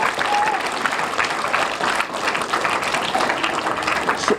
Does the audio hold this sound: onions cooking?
no